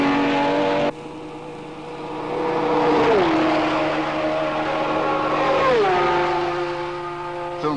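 Porsche race cars lapping in practice at Le Mans in 1969 (Porsche 917 among them), one engine roaring loud and close with sustained high revving, its pitch dropping twice as it shifts or passes, with no talk.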